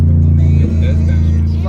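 Engine of a wrecked Ford Lightning pickup truck rumbling loud and steady, with a brief shift in pitch partway through as if changing gears, voices talking over it.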